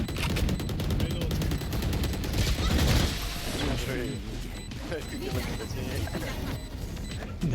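Rapid gunfire from the video game Valorant, dense bursts of shots and mechanical clatter running almost without a break, with louder rattling in the first three seconds before it eases slightly, under a steady game mix.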